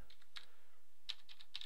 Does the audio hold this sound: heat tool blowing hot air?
no